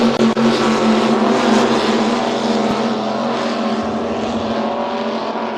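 An offshore racing powerboat numbered 222, a Supercat outboard racer on Lake Macquarie, roars past loudly with a sustained, droning engine that swells and then slowly fades as it moves away.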